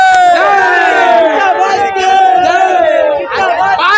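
Fans of actor Sudeep cheer loudly outside the Sangam theater: a dense, continuous roar of many voices shouting and whooping together, with no pause across the clip.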